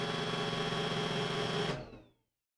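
An iRobot Roomba i4+ robot vacuum whirs steadily at close range, then its motor abruptly winds down and cuts to silence.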